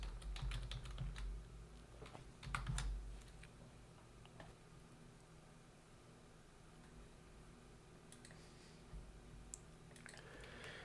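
Steady typing on a computer keyboard while entering a terminal install command, soft close key clicks in quick bursts that thin out after a few seconds, alone in a quiet room.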